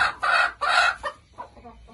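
A white broody hen, placed onto a clutch of eggs, clucks close by in a few loud bursts that fade into softer, shorter clucks.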